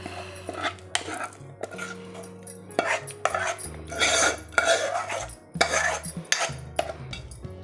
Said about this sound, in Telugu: ఇప్పుడు దీన్ని సర్వింగ్ బౌల్లోకి తీసుకుందాం